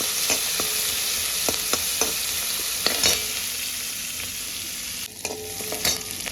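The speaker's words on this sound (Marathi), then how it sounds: "तेल कढू द्या चांगलं. चांगलं भाजून घ्यायचं." A spoonful of oil frying in a pan for a bottle gourd dish gives a steady close sizzle, broken by sharp clicks and scrapes of a spoon stirring.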